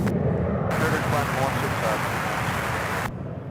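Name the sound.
airplane taking off at Charlotte airport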